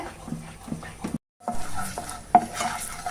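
A spoon scrapes and stirs sugar caramelizing to dark brown in a pan over a low stove flame for a leftover-rice halwa, in repeated strokes close by, with a brief silent gap midway and no talk.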